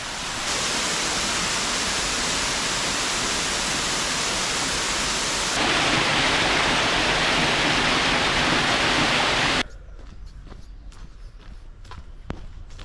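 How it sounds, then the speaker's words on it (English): A waterfall pours against rock beside a coastal walking path in Fife, a loud, close, steady broadband rush that suddenly drops away, leaving faint footsteps on the path. "The waterfall against the rock."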